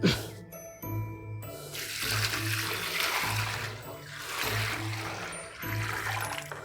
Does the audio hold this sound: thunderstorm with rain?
no